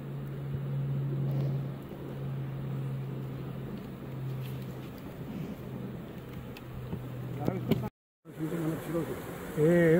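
Honey bees buzzing around an opened beehive frame, a dense, continuous close hum of many insects that drops out briefly near the end and then resumes.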